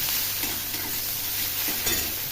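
Onions and garlic fry in a pan while being stirred, a continuous sizzle with scraping strokes of the spoon, close and steady with no talking.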